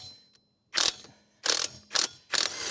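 A Magsen half-inch cordless torque wrench rated at 3800 RPM spins lug nuts off a raised wheel in four short, loud, close bursts of whirring, rattling motor noise separated by brief quiet gaps.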